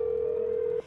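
Telephone tone in the video game Do Not Feed the Monkeys: one steady, clean electronic beep that holds for most of a second and then cuts off, heard alone.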